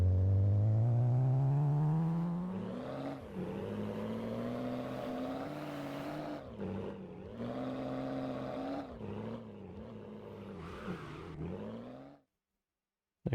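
A simulated car engine in a Unity vehicle physics demo revs steadily, rising and falling in pitch through repeated throttle bursts and gear changes, loud and alone without talk, then cutting off abruptly near the end.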